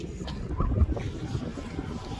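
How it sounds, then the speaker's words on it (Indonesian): Wind gusts rumble against the microphone at a beach in Tanzania, a low, uneven blustery noise with a faint voice in the background. "Pantai dan angin."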